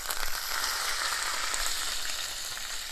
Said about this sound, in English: So the green chilies will start to sizzle.